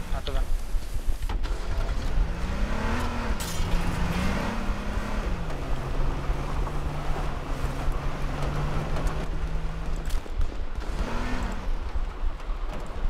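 A car engine in the H1Z1 video game drones steadily, its pitch rising and falling as it accelerates and shifts, with a constant rushing road and wind noise beneath talking players.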